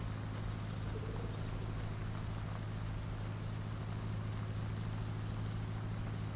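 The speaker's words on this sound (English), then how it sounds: "Must have been an engine in the distance." A distant vehicle engine in the video game RoadCraft drones as a steady low hum, faint and constant, with no speech over it.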